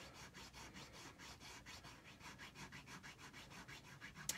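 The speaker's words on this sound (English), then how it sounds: "If you have a rougher file, it probably would work better." Hand file cutting a groove into a small handmade miniature telephone, a steady back-and-forth rasping in even strokes, close and moderately quiet with no talking.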